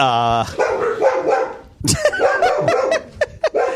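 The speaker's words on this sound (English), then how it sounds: "making my dogs bark around here" Dogs barking at home, a few sharp barks close by, mixed in under someone talking over them.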